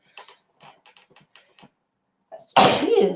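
A single loud, explosive sneeze bursts out near the end, preceded by a few soft rustles and clicks in an otherwise quiet room.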